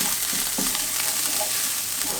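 Spices fry in a pan for chicken curry while being stirred, giving a constant close sizzle with soft scraping of the spoon.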